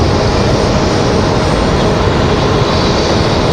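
An American Airlines 737 MAX 8 jet on the move at an airport, a loud, steady, close roar of jet engines filling every moment without a break.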